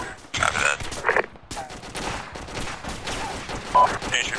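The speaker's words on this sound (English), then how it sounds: "Bravo's taking heavy suppressive fire from the east" Heavy suppressive fire from the east in an Arma military shooter: irregular bursts of shots and impacts keep arriving over several seconds, some loud and close, others further off, with a faint grunt or voice in the mix.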